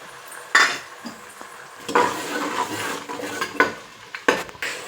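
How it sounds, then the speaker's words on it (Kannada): Onion and ginger-garlic paste fry in a pan for mushroom biryani, a soft sizzle broken by sharp metallic scrapes and clinks of a ladle against the vessel, several distinct strokes close by with no talk. "ಇದು ಚೆನ್ನಾಗಿ ಫ್ರೈ ಆಗ್ತಿದೆ"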